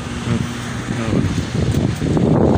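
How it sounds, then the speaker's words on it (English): Gusty seaside wind around sunset buffets the microphone, producing a rough, uneven low rumble that swells louder toward the end. "It's windy."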